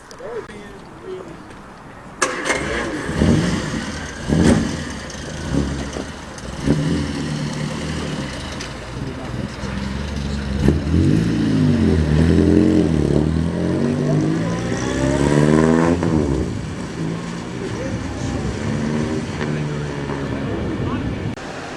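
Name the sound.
classic cars driving past at Crewe Heritage show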